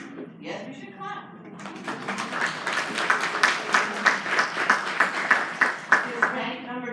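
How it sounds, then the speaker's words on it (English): An audience at a new teacher induction ceremony breaks into applause, scattered claps swelling into steady, loud clapping with rhythmic peaks, after a brief stretch of voices at the start. "Yes, we should clap."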